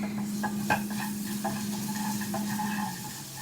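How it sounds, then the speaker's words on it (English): A spoon stirs a veggie ball curry laced with fresh grated chili in a pan, with soft scraping and light clinks over a low bubbling sizzle, close and steady. "Just give it a stir."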